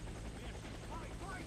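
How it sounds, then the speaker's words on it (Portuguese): Helicopter in the video game Warface, a low continuous rotor drone under faint background sounds, quiet and steady for the short stretch. "Helicóptero!"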